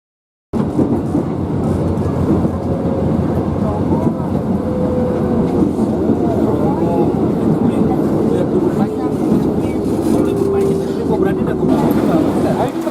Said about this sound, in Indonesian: Kereta pertama membawa rombongan menuju Stasiun Duri.